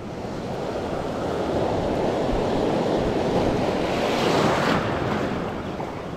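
Ocean waves surging and washing in a broad continuous roar, with wind buffeting the microphone and a swell that builds toward the end.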